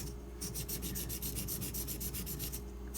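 A Benchmade Mini Griptilian D2 knife stroked across silicon carbide sharpening stones, a steady run of about fifteen quick, even rasping strokes, close and clear over a low background hum.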